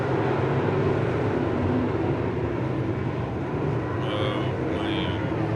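Street stock race cars roar around a dirt track at Whynot Motorsports Park during a three-car battle, a dense continuous engine drone that stays loud and steady throughout, with a commentator talking over it.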